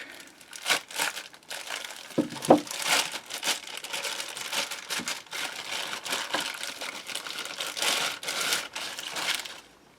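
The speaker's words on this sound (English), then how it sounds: "We'll take this out of the plastic." Plastic packaging crinkles and crumples as it is pulled off wood lathe chuck jaws for a Nova 3G chuck, close and continuous, with a few sharper crackles and no talking.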